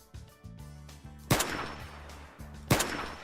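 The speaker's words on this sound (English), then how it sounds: "Do you have something I can shoot?" Two sharp gunshots from a weapon in Minecraft 1.10.2, fired at a spider, each a loud crack followed by a short decaying tail, spaced about a second and a half apart over a low in-game background hum.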